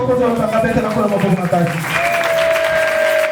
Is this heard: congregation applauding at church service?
yes